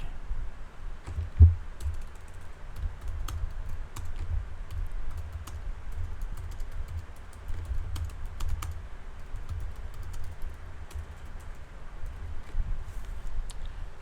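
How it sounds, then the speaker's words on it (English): Typing on a computer keyboard: irregular close clicks and taps over a low background hum, sustained throughout with no speech. "let's just type it out real quick"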